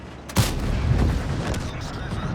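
A Leopard 1 tank cannon in a video game fires one sharp, loud blast followed by a rumbling tail, with engine and battle noise running underneath.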